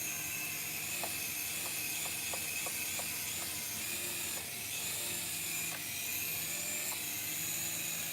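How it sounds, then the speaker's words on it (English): A small Shark toy helicopter hovers with a steady high buzzing whir and a run of faint rhythmic clicks, quiet and constant, with no talking. "And this is my Shark helicopter."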